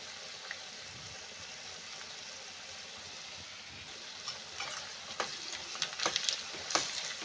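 Chilli powder and coriander powder stirred and mixed in a frying pan for tamarind chitranna, a steady low sizzle with scraping stir strokes growing louder and busier toward the end, no talk.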